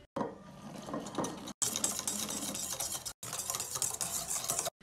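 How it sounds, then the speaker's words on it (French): Brisk, continuous whisking of hot milk poured into egg yolks in a bowl, a steady scraping swish in three bursts separated by brief pauses. "on va venir le faire couler en 3 fois dans les jaunes, tout en mélangeant bien entre chaque coulée."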